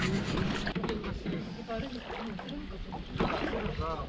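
A small motor pulls a raft out into the river current, its steady drone running beneath water noise while several voices talk over it.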